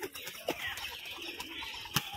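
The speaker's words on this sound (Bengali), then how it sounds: "তো এটা আমার খুব প্রিয় পায়রা একটা" Giribaz tumbler pigeons calling near the coop, with soft coos and a few brief chirps over a busy outdoor background and no talk.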